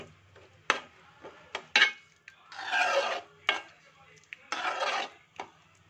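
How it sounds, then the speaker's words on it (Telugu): Mutton keema curry with water added is stirred in a pot, with a spoon knocking against the metal and long scraping strokes up close, and no talking. "ముందు బాయిల్ చేసాం కదండి మటన్, ఇలా కలుపుకుంటే సరిపోతుంది."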